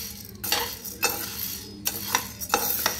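Sorghum grains dry-roasting in a pan, stirred with a utensil: repeated scraping sweeps and light clinks over a soft, steady sizzle, close and moderately loud.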